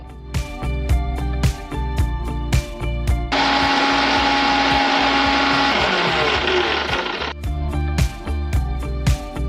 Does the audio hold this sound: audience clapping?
no